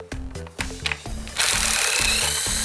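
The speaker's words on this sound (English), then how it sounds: "Now you can proceed by removing a few bolts with 10mm socket." A ratchet works on 10mm bolts of a 3.5L V6 valve cover on a Dodge Charger, giving bursts of rapid clicking that loosen in steps. A steady loud whirring noise then takes over, close and unbroken by speech.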